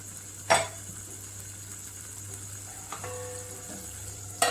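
Eggs cooking in a chili masala paste under a covered pan give a steady low sizzle, with a few brief clicks and a clatter like a lid or utensil touching the pan.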